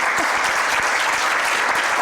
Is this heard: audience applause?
yes